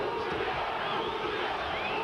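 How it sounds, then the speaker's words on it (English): Spectators at a boxing match between Julio Gonzalez and Jonathan Young roar in a dense, continuous wash of shouting and cheering, loud and steady throughout, with voices blended into the crowd noise. "And the crowd urging their man on."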